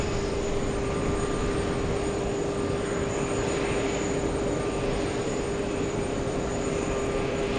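An Asiana Airlines jet taxis toward runway 22 at JFK airport, its engines giving a steady, loud roar with a constant whine riding on top, unbroken and without voices.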